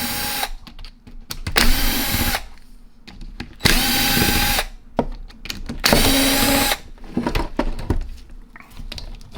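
A power tool drives out the body screws of a Matco 1/2-inch impact wrench, running in three loud whirring bursts of about two seconds each, with short quiet pauses and small clicks between them.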